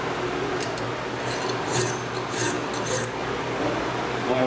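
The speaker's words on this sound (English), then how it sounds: "the file is moving just like the axle, you cut on the forward stroke and you release on the back stroke" Hand file rasping across a forged steel blade, a steady scratchy texture of repeated forward cutting strokes at close range, with brighter bursts on several strokes and no voices.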